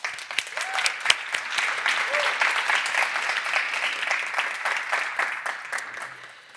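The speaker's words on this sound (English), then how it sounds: "A round of applause for them," Audience applause for a panel of six speakers at a food science conference debate, a steady wash of clapping across the room holding for several seconds before slowly thinning out.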